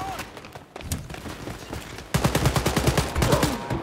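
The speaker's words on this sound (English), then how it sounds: "And we're getting shot at." Rapid gunfire in the video game Wolfenstein: Youngblood, scattered shots at first, then a dense rattling burst of automatic fire close by, loud and sustained.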